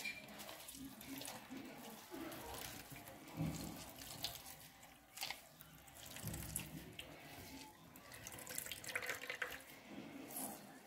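Liquid is squeezed and wrung from grated cassava (yuca) wrapped in a white cloth, producing faint, uneven splashing and trickling with wet squelches rising and falling, quiet and close, with no talk.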